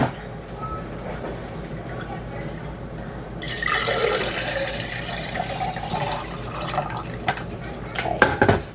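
Water poured into a glass for a drink in a kitchen: a steady, close stream of liquid rising in pitch as the glass fills, over background room noise, with a few clinks near the end.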